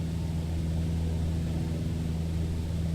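Small training airplane engine droning during a steep turn, a steady low hum with a constant mid-range whine, heard from inside the cockpit.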